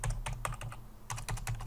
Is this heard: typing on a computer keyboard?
yes